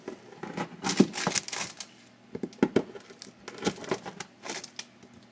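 A knife chopping chilled Skor toffee squares into thirds: a run of crisp cracks and clicks in irregular bursts, close and fairly quiet, with short pauses between cuts.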